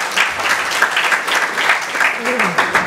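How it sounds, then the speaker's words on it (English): A conference audience applauds for Astrid, a supporter of the Lee Kuan Yew School. Close, dense clapping fills the whole stretch, with a brief voice near the end. "So a round of applause for Astrid."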